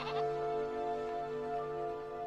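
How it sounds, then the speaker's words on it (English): A goat bleats once in a short, moderately loud call near the start, with a steady tonal hum continuing underneath for the rest of the moment. "I'm sorry, sweetie, but he's just a goat."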